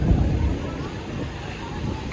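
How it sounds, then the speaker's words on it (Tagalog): Strong wind buffets the microphone outdoors at the Roxas night market in Davao, a steady low roar with gusty rumbling throughout. "Lakas ng hangin."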